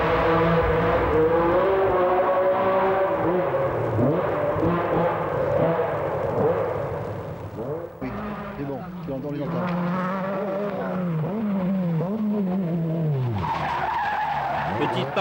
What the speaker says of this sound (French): la fabuleuse sonorité de son moteur atmosphérique